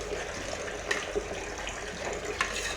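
Water pours steadily into a bowl of flour for kneading dough for qurs flatbread in a home kitchen, a faint, continuous wash of trickling liquid with no one talking.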